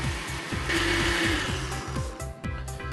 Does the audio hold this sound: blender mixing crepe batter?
yes